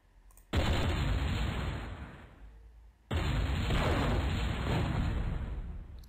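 Fire ignites in the video game MechQuest as two loud whooshing blasts. Each bursts in sharply and rumbles before fading, the second starting about two and a half seconds after the first.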